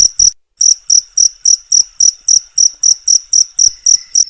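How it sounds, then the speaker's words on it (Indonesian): A cricket chirps loudly and close in a steady pulsing rhythm, each shrill trilled burst evenly spaced about three times a second after a brief opening pause. "jangkrik."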